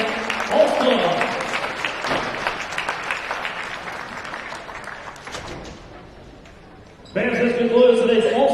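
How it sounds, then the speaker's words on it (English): Applause rises from a crowd of fans in a high school gymnasium after Indiana 3A and 4A volleyball all-star games, loud and sustained, dipping for a moment before a fresh burst of clapping with cheers near the end. "One more round of applause for all our 3 and 4A All-Stars."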